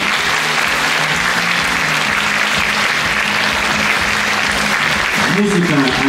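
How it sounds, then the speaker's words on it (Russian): Loud, sustained audience applause for the boys' and youth choir «Orlyata» from Oryol, a dense continuous ovation throughout, with a voice starting to speak near the end. "Ваши бурные аплодисменты."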